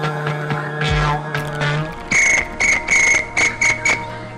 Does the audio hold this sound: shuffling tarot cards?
no